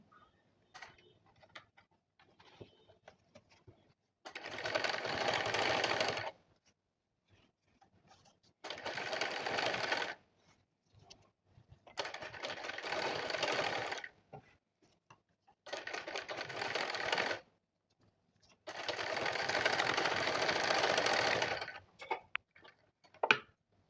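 A sewing machine stitches elastic lace onto a garment neckline in five separate bursts of fast, rattling running, each a few seconds long, with quiet handling between them.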